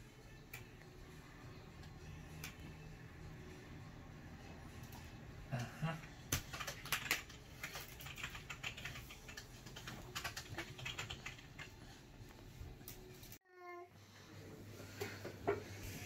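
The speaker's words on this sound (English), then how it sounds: "Look at those typing skills." A child taps away at a computer keyboard at home, a steady run of light key clicks with a brief pause near the end, heard alone with no talking.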